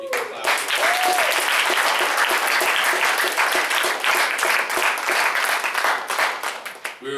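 Loud, sustained applause from a large concert audience, dense clapping that holds steady for several seconds before thinning slightly near the end.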